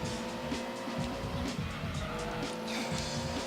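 A race car in the video game Gran Turismo 2 brakes hard into a corner, its tires squealing steadily over a constant engine drone throughout, with no talking.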